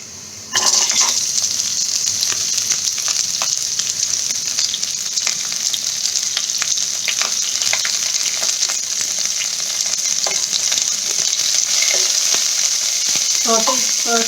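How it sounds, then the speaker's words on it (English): Carrots and green beans saute in a hot pan for a Thai vegetable curry, giving a steady, loud sizzle throughout with occasional clinks and stirring scrapes near the end. "Saute for 1 or 2 minutes."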